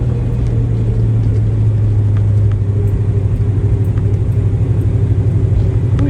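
A 1966 Chevelle engine idling steadily after a new flywheel was fitted, a loud close, even low rumble with a regular pulsing throb and no speech.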